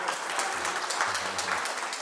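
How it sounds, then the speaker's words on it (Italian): Audience applause welcoming a guest, a steady sustained patter of many hands clapping at moderate loudness, with a faint voice murmuring underneath partway through. "accoglietelo con un bel applauso"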